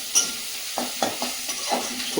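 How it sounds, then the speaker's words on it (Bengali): A spatula stirs salted frying food in a home kitchen pan, giving a few soft, spaced scrapes over a faint, steady sizzle, with no voices. "ভালো করে চালিয়ে দিলাম"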